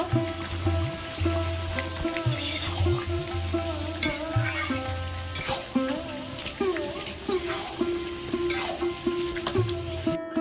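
Fish pieces frying in hot oil on a home stove during Ranna Puja cooking, a steady crackling sizzle throughout with clattering utensils and stirring knocks layered over it, fairly close.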